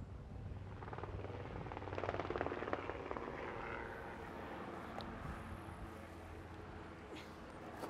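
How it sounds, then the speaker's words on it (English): A helicopter's rotor thrum rises in the distance and fades again over a disc golf course, a steady rhythmic chop over wind and outdoor background noise. "Helicopter."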